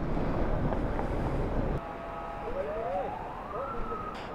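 A vehicle hooter wails on a mountain road near the Line of Control in Kashmir, a rising and falling siren tone heard at a distance over steady wind noise.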